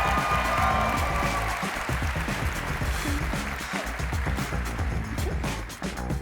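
Applause from a convention audience at a cosplay contest as a contestant spins on stage, a dense wash of clapping that stays loud throughout and begins to thin near the end.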